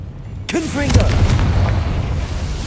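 A Confringo blasting spell goes off in Hogwarts Legacy with a sudden loud boom, followed by a rumbling, crackling burst that fades slowly. A voice shouts the spell name just as it fires.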